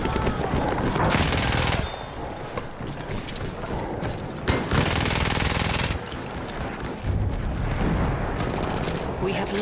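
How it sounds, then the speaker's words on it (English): Rapid machine gun fire in a WWI battle video game, with dense bursts of gunfire under a busy battlefield mix, the loudest stretches in several long blasts and shouting voices in the background. "Machine gun!"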